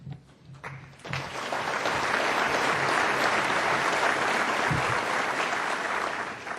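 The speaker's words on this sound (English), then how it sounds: "Please join me in applauding and thanking our panel for doing such a great job at such a tricky task" An audience at a Canadian Club business luncheon breaks into applause after a brief pause, swelling quickly into a sustained, full wash of clapping that holds steady and then eases slightly toward the end.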